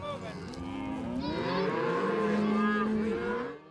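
Cattle mooing during a warm-weather cattle drive, a long drawn-out low bellow rising and falling for several seconds, close and loud, with faint background noise.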